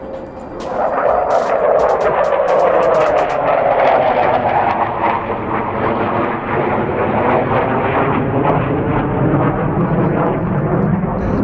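An Air Force jet roars overhead, loud and sustained, its pitch sliding downward as it passes and then fading into a long, rumbling wash.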